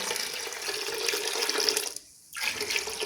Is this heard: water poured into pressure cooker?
yes